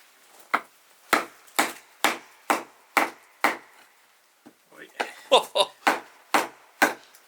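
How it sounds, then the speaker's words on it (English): Batoning hard wood with a Mora Garberg full tang knife: a steady series of sharp, loud wooden knocks about every half second, a brief pause, then a quicker cluster of splitting strikes before the even rhythm resumes. "Alright, first test of today. It's of course batoning."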